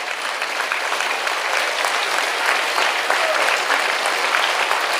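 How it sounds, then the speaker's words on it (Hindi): Sustained, dense applause from a large audience at a devotional gathering for the Karauli Shankar Mahadev darbar, steady and loud for several seconds without pause. "ये तालियां ही संकल्प हैं।"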